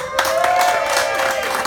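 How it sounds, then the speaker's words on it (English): An audience at a party applauds the manufacturers, a short burst of mixed clapping and light cheering under a sustained tone, moderately loud and fairly close. "A big round of applause for all the manufacturers."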